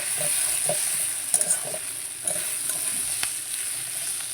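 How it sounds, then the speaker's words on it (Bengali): Ginger garlic paste sizzles steadily while it is stir-fried in a pan at home, with soft scraping and stirring clicks over a constant frying hiss. "আদা রসুনটা গন্ধ ছাড়বে হালকা হালকা একটু জল দিয়ে কষে নেবো"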